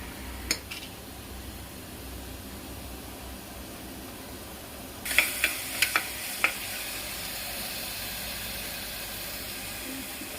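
Masala spiced with amchur powder roasts in a pan, a soft steady sizzle with a few brief stirring scrapes and clinks, close and fairly quiet.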